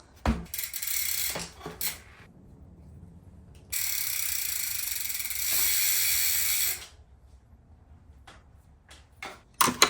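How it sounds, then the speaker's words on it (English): A Commencal Clash mountain bike wheel spins freely, its freehub ratchet buzzing in long, fast clicking runs broken by short pauses and a few isolated clicks and knocks, close by and with no talking. "The wheel feels good. Spins are solid."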